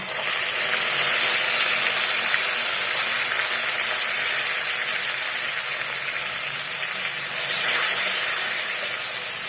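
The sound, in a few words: green chili and ginger paste sizzling in a hot pan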